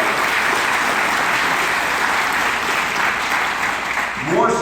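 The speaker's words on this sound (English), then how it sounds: "you should give your elected officials a round of applause for the work that they do" Loud, dense applause from a political speech audience in Las Vegas, filling the whole clip as a steady roar of many hands with no let-up.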